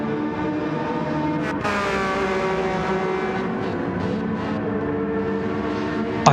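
GT3 race cars, including a Ferrari, lapping in a racing video game series: a steady, loud engine drone with shifting harmonic whine as cars hold close together, one passing sharply, with no talking over it.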